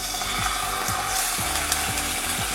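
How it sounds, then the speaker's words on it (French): Rump steak frying in olive oil in a pan over high heat, a steady close sizzle with faint rhythmic scraping or ticking repeating about twice a second underneath. "Dans une poêle à feu vif avec de l'huile d'olive,"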